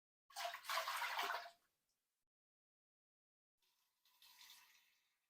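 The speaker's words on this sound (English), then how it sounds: "You're going to put your water in that your canner calls for." Water is poured into a canner for hot-pack canning, three quarts measured in: a close, splashing pour of about a second, a pause, then a shorter, quieter pour, with no talking.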